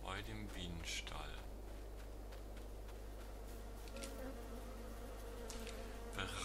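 Bees buzzing around a beehive in the video game Farming Simulator 22, a steady close insect drone over a low hum, with quiet speech at moments.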